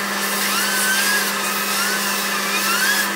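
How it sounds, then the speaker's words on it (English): A vacuum cleaner held against a PC cooling fan gives a steady drone with a low hum underneath and faint high whirring whines that rise and fall. "Holding the fan with the vacuum cleaner works pretty good."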